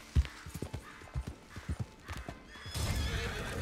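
A horse in Red Dead Redemption 2 walking through a forest, with a series of distinct hoof clip-clops at an uneven pace, followed by a louder neigh and snorting near the end.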